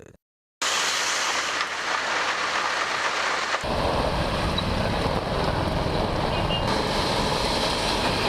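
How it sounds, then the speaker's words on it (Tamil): Heavy rain pours down across a residential area of Chennai at night, a loud, steady broadband hiss that continues without a break and thickens to a denser roar partway through, with no voices. "அதேபோல் நேற்று இரவும் கனமழை கொட்டியது"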